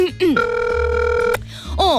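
Telephone ringing during a call, a loud electronic ring tone in sustained bursts with short gaps between them, heard close and clear.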